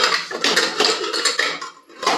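A steel pressure cooker of khichdi is opened in a home kitchen, with close, bright metallic clanks and clinks from the lid and pot in quick irregular bursts before a brief lull and one more clatter.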